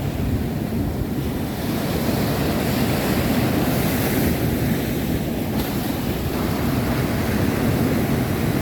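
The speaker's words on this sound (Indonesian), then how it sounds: "Kita tunggu ombak yang dari selatan." Ocean waves breaking on shore, a steady roar of surf rolling in continuously, mixed with gusting wind buffeting the microphone.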